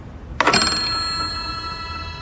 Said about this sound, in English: what they suddenly see is, as if by magic, a bell ringing